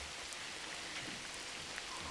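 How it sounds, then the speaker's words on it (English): Light rain in Los Angeles, a soft, even patter with scattered faint drops, quiet and steady with no voices. "Oh my gosh, it's raining."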